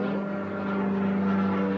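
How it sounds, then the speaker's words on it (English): An airplane flying overhead gives a steady, moderately loud droning hum with a constant low tone, and no one speaks. "Plane."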